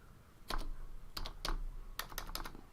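Keystrokes on a computer keyboard while a simulation command is typed into Octave, clattering in three short bursts of quick taps with pauses between, close and alone with no voice.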